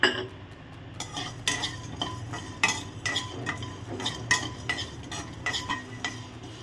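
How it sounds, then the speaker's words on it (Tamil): Cashews fry in a pan for a Thanjavur-style mutton curry while a utensil stirs them, making regular scraping clinks over a soft, steady sizzle close up. "இதை கருக விடாமல் அழகாக ஒத்துக்கணும் சூப்பராக இது கூட இப்போ முந்திரி பருப்பையும் சேர்த்துக்கோங்க"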